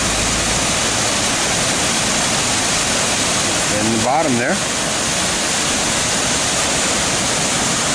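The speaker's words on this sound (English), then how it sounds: "Splashes out on the rocks, kind of unusual down there" A waterfall in the Columbia River Gorge pours and splashes onto rocks, a loud unbroken rushing wash that fills the whole scene, while someone speaks briefly partway through.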